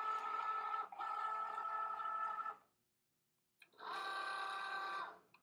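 A Cricut Joy cutting machine cuts glitter cardstock with a steady whirring motor hum in two bursts, split by a short pause, close and alone.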